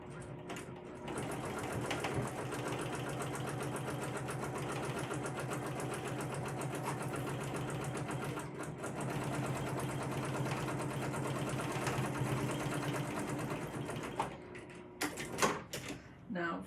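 A sewing machine stitches the bottom seam of a crossbody bag, running loud and continuous for about fourteen seconds before stopping, followed by a few clunks and handling noises.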